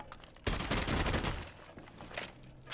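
Rapid automatic gunfire in the tactical shooter Rainbow Six Siege erupts in a dense, close burst of about a second, then trails off into a few scattered shots.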